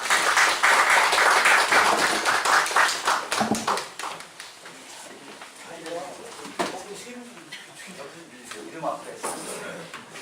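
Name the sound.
audience applause welcoming a debate speaker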